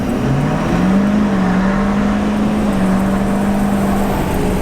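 A 2019 Ford F450 dually Lariat with a 6.7L Power Stroke diesel accelerates hard from a standstill, its steady rising engine drone and turbo whine continuous and fairly loud throughout, with no talking.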